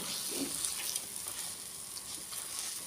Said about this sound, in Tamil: நல்லா கைவிடாமல் கிளறி விடுங்க